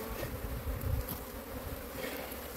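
A dense, continuous buzzing of many honey bees in an open hive close by, steady and layered, with no voices.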